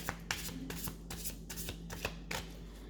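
Tarot deck being shuffled by hand, a run of quick papery riffles and soft slaps repeating at a steady rhythm, close but quiet, with no talking.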